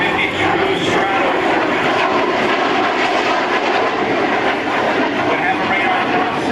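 A Lockheed F-117 Nighthawk stealth jet makes a flyby at a 2004 military open house airshow, a loud, steady broadband engine roar sustained for several seconds.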